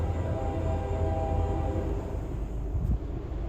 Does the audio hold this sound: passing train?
yes